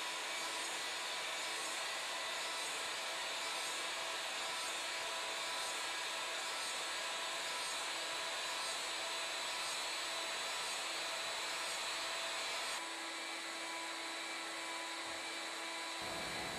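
A milling machine run as a CNC lathe turns a wooden Native American flute with a steady, loud, high whirring drone, the tone shifting slightly near the end.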